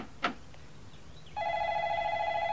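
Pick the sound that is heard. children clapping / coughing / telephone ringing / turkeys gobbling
telephone ringing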